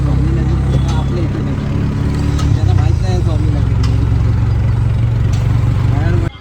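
An auto rickshaw's engine idles with a steady low rumble on a highway stop on a road trip from Sawantwadi to Ratnagiri, running close and loud under people talking until it cuts off.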